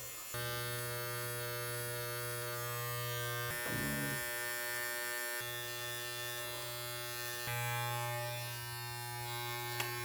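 Electric hair clippers buzz steadily while cutting a fade, a close, continuous motor hum with a few brief pauses and shifts in tone as the blades are lifted and repositioned.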